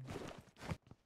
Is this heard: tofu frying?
no